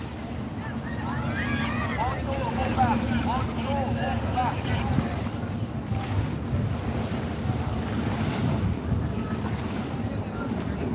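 Sea waves and wind at Dolomite Beach during a dragon boat race, a continuous roar of surf and gusty wind noise buffeting the microphone, with voices faintly mixed in throughout.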